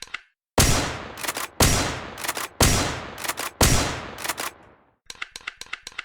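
Shotgun blasts in the video game Project Speedkills: four loud, sharp shots about a second apart, each with a short decaying tail and mechanical clatter, followed by a quick run of lighter rapid clicks.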